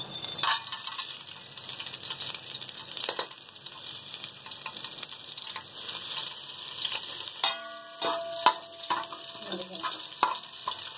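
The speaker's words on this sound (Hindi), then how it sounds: "थोड़ा सा हम गरम मसाला फ्राई करेंगे।" Garam masala fries in hot oil in a pan for dhaba-style yellow dal, making a loud, continuous crackling sizzle up close, with a few stirring scrapes near the end.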